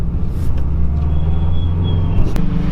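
A Subaru WRX pulls away on the road, its steady low engine rumble dominating throughout with a faint passing whine and a brief sharp transient near the end.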